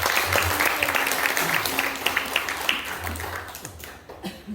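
Church congregation applauding at a celebratory worship service, steady dense clapping from a crowd that tapers off near the end, with a few voices mixed in.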